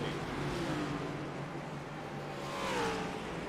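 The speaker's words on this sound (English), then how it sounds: "Next car's about to leave." A race car engine whines up as the car pulls out of the pits during a caution in an online racing game league, a steady revving tone rising and shifting pitch, moderately loud with no talk.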